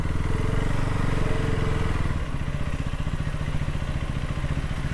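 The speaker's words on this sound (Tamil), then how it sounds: "வண்டி நிற்கிது." KTM Duke 250 motorcycle engine running loud and close with a rapid throbbing pulse, dropping to a lower, slower beat partway through as the bike comes to a stop.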